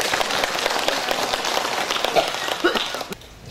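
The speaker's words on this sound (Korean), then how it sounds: "여러분 박수 부탁드리겠습니다." An audience of seniors at a Parents' Day family-love reading concert in Daejeon's Seo District applauds as the district council chair is introduced; a dense, steady patter of many hands runs for about three seconds, then breaks off abruptly.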